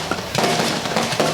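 Firecrackers going off at a village drama event: a quick run of loud, close, crackling bursts.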